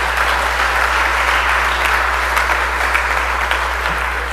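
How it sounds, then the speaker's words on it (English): Steady applause fills the Mississippi House chamber, many hands clapping in a dense, continuous wash with a low electrical hum beneath it. "Let's give her a round of applause."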